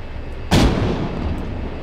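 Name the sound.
super long range gun firing in Arma 3 video game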